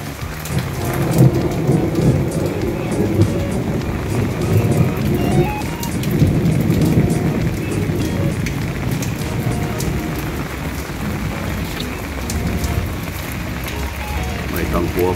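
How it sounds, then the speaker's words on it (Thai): Heavy rain pours continuously, a dense hiss with deep thunder rolling underneath throughout. "อัดวิดีโอนี้ตอนฝนตกเลยครับ"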